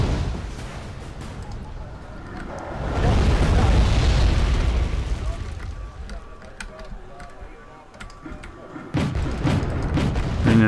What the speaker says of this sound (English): Got a lot of artillery guns firing